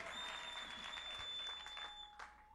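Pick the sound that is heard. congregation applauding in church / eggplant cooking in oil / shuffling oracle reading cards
congregation applauding in church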